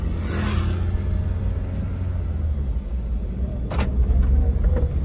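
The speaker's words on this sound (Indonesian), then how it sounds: "Di RPM tertentu angka awal mulai digas tuh udah serek gitu." A Toyota Avanza accelerates with a raspy grinding noise at low rpm under throttle, the close engine rumble rising and falling with a heavier surge toward the end.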